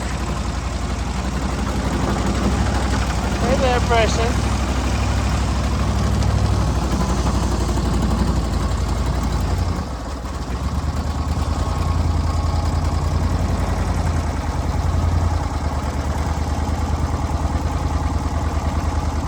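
A low, rumbling engine idles steadily throughout, with a brief voice speaking over it early on.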